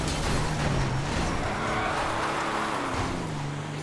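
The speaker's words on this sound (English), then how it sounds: "Spinning out right there is because you're holding the" A car spinning out in the video game GTA, a loud engine roar with shifting pitch and tire screech as it slides sideways, close and continuous with no talk.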